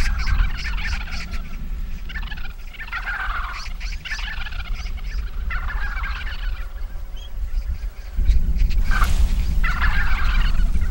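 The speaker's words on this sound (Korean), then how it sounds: "좁은 공간에서 떼지어 생활하다 보니 사람이 주는 먹이를 두고 싸움을 하는 일이 잦다." A flock of about 250 wild vultures squabbling over food put out by people in a cramped space, with overlapping harsh, honking and gobbling calls throughout and a louder, denser outburst near the end.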